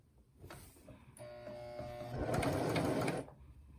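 A sewing machine stitches a curved seam in fabric, starting with soft handling noises, then a steady whirring hum that grows louder and faster before stopping abruptly.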